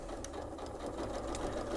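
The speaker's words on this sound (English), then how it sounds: "So I'm going to run this through using the foot again of my sewing machine is the gauge for my seam allowance" A sewing machine stitches a cushion seam in one continuous run, its fast, even mechanical whir steady and close throughout with no talking.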